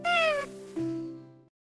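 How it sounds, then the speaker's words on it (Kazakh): A domestic cat gives a clear, close meow in two parts: a bright rising-falling cry, then a lower drawn-out tail, followed by silence. "Мысық."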